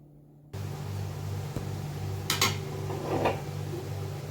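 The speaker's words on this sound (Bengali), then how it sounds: "তো সবজিটা আমি এখানে ঢেলে নিলাম।" Cooked Malabar spinach slides from a pan into a dish, with a steady scraping wash of sound and a few metallic clinks of utensil against cookware over a low background hum.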